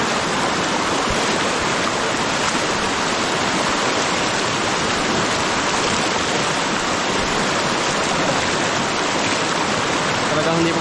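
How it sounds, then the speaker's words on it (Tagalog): A large river rushes, filling the scene with a steady, dense broadband roar that never lets up. "Malaki po itong ilog ito eh."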